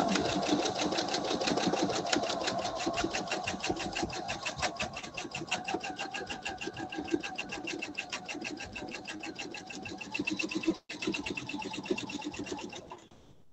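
A sewing machine runs in a fast, even rattle while free-motion quilting, stitching continuously for about eleven seconds before a brief stop and a short final run.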